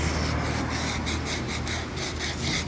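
A sanding block works the contoured wooden body of a Strat-type electric guitar, producing a dense, continuous abrasive rasp with quick rhythmic back-and-forth strokes, close and steady, no talking.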